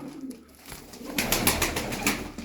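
Pigeons in a loft of a performing (oyunlu) breed, with soft cooing under a steady bed of rustling and fluttering, growing busier and brighter in the second half, fairly close with no talk.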